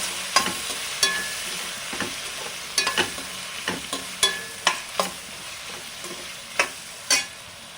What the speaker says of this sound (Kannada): ಇದು ಸ್ವಲ್ಪ ಫ್ರೈ ಆಗಬೇಕು.